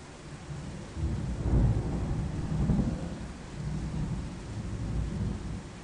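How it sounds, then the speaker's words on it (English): Low, rolling thunder rumbles from a storm, swelling and fading over a few seconds with a steady rain-like hiss beneath, heard alone without voices. "That's thunder."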